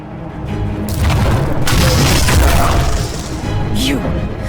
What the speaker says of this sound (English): A good trebuchet will do major damage to those ancient walls.